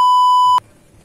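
A smartphone voice assistant gives its activation tone, a single clean, loud electronic beep about half a second long that cuts off sharply into quiet room noise.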